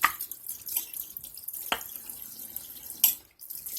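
Tap water splashing into a sink while combs are rinsed, a steady wash broken by a few louder bursts of splashing and clatter, fairly close, with no voices.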